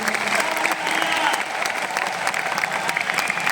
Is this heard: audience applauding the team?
yes